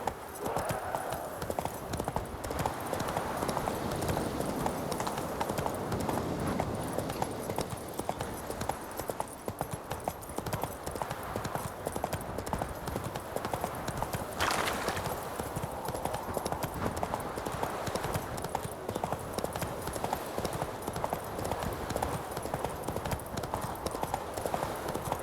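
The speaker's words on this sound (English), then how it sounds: "Come on, Roach." A horse gallops in The Witcher 3 video game, its clip-clop hoofbeats pounding in a fast, continuous rhythm over an ambient game background for the whole stretch, with a brief burst of louder noise midway.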